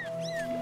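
Short, angry cat-like yowl from the video game Skyward Sword: a wavering, strained cry over a steady electronic tone and low game ambience, close and moderately loud.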